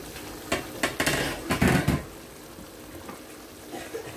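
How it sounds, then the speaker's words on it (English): A spoon stirs gizzard stew with vegetables in a cooking pot, giving a run of clattering scrapes and knocks against the metal before the sound settles into a quieter simmer. "we stirred."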